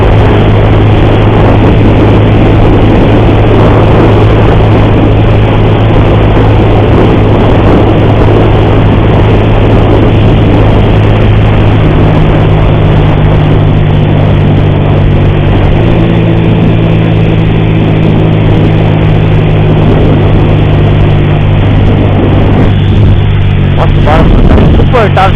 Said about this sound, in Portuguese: Insuportável, vocês conseguem escutar, galera, ó, corrente de comando.